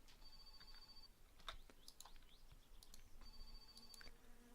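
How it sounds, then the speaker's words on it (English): A phone rings inside the video game My Summer Car, a faint repeating electronic ring in two bursts separated by a short pause, with scattered small clicks between. "Phone's going off again."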